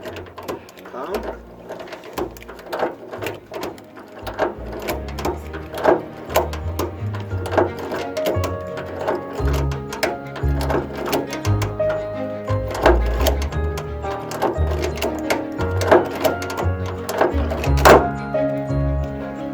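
A hand-pumped riveting machine setting a rivet, giving repeated mechanical clunks and ratcheting strokes in a steady rhythm, close and fairly loud throughout.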